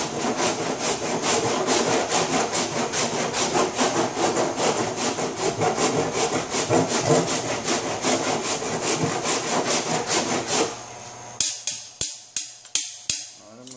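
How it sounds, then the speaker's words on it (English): Body filler on a 2005 Honda S2000 being sanded by hand with 80 grit sandpaper, heard as fast, loud, rhythmic rasping strokes close by that give way to a few slower, separate scrapes at the end, with no talking. "Eat through this with 80 grit and feather it out."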